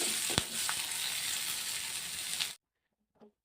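Hot oil sizzles loudly and steadily for a couple of seconds as curry leaves hit it for tempering, then cuts off to near silence with a faint clink.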